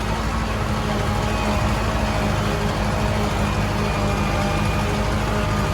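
A tractor engine runs continuously at close range with a loud, dense broadband roar and steady low drone, unbroken for several seconds and without talk.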